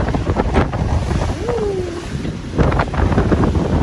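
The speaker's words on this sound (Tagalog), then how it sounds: "Lakas ng hangin." Strong winter wind buffets the microphone on an open cruise ship deck, a steady rushing roar with gusty swells and a brief whistling tone partway through.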